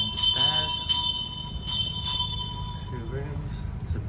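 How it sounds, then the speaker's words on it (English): A bell rings aboard the Princess Haleema dive liveboat in the Maldives, calling passengers to lunch; bright metallic strikes come in a few quick bursts over steady engine hum, with people talking nearby. "It's a bell, which means I think it's like lunch."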